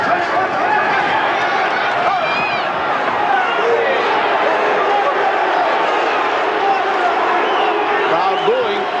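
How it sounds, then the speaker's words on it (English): A large boxing crowd at a Tony Lopez vs John John Molina bout keeps up a loud, continuous roar of boos and jeers, with a commentator talking over it. "Crowd booing because Molina put his arm and held down the head of Tony Lopez"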